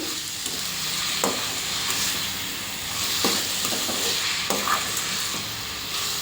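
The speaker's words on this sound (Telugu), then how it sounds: "ఈ చక్కెర వేసేసి మొత్తం ఇట్లా కలిపేటాలండి అంతా కరిగిపోవాలి చక్కెర అనేది" Beetroot halwa with sugar is stirred in a pan over heat, giving a soft continuous sizzle with occasional scraping strokes of the spoon, close and moderately loud.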